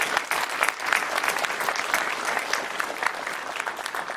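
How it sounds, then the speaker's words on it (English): An audience at a Tustin State of the City event breaks into sustained applause, a dense, even wash of many hands clapping at moderate volume with no speech over it. "Another round of applause."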